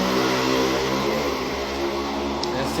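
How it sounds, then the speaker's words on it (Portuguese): A motorcycle goes by outside during a home prayer gathering, its engine a steady, fairly loud mid-pitched drone that fills the whole moment with no speech over it. "a moto passa na hora do estudo"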